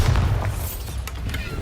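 A Bombarda spell explodes in a video game: a loud, deep boom with a heavy rumbling low end that rolls on for over a second.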